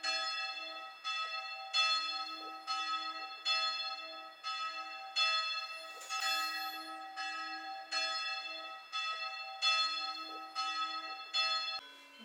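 Church bells in the Swiss village of Leukerbad toll in a slow, even rhythm, each stroke ringing out and fading before the next, heard from a moderate distance with no talking.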